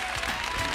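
Dense, steady applause and cheering from a large audience at a live prize-draw segment of a Malaysian theme-park TV show, a continuous broadband roar without any distinct voice on top.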